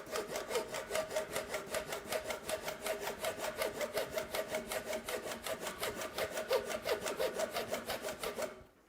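A hand saw cuts a kerf into a wooden mailbox post with fast, even rhythmic strokes, each push and pull rasping close and clear, about four strokes a second.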